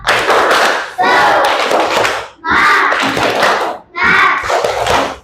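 Fourth-grade class in an Indonesian classroom clapping the 'tepuk semangat' chant rhythm, loud bursts of close, dense clapping in four groups, mixed with children's voices chanting along.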